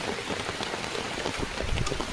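Steady rain falls on surfaces nearby, a dense continuous patter with no voices.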